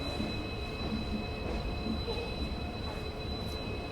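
The Rajasthan Sampark Kranti Express rolls along, a steady close rumble of wheels and carriage noise with faint squeals riding over the continuous roar.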